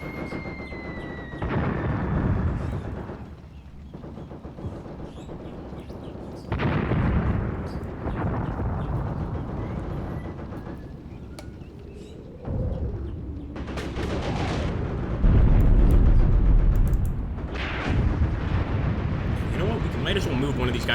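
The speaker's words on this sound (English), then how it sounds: "They've got mortars." Mortar fire and shell explosions from the WWII strategy game Tank Warfare: Tunisia 1943 boom repeatedly in heavy bursts with rumbling aftermath, while someone talks over the battle noise.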